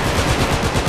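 Rapid automatic gunfire in the video game Battlefield on the Caspian Border map, a dense, loud, continuous burst of shots rattling in quick rhythm for under a second.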